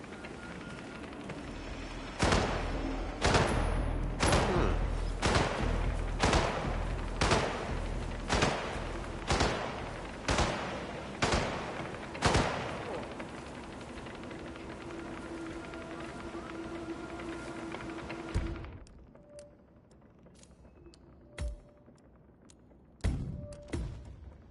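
A string of sharp, loud gunshots fires at a steady pace, roughly a dozen reports with echoing tails, then the space falls quieter with a few scattered, fainter shots at the end.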